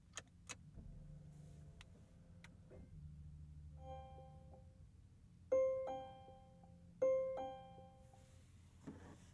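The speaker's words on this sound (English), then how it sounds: "It's interesting how those chimes come on." A 2023 Volvo XC90 Recharge plug-in luxury SUV starts up with soft clicks and mechanical ticks, then a sequence of clear electronic chimes, including two louder tonal dings, in a quiet cabin.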